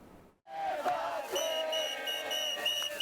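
Protest crowd in the streets of Tel Aviv, with flares lit and slogans chanted, roaring loudly and continuously after a brief silent gap, with a high whistle-like tone running through the din.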